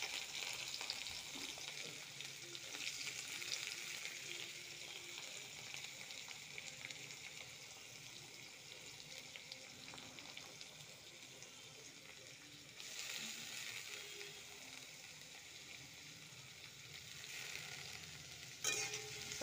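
Chopped onion frying in a pan makes a steady, fairly quiet sizzle that hisses evenly throughout, swelling slightly now and then.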